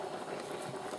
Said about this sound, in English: So why is this soup halfway boiling